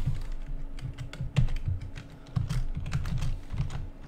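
Close computer keyboard typing while code is entered, irregular bursts of key clicks with brief pauses, no voices.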